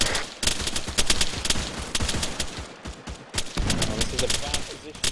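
Rapid gunfire rattles through a close-quarters firefight inside a building, dense overlapping bursts and shots crackling loudly and almost without pause throughout.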